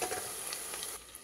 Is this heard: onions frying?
yes